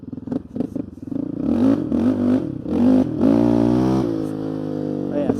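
A Honda TRX700xx ATV accelerates with its wheels spinning. The loud, close engine climbs in pitch through a couple of rising revs, then pulls steadily.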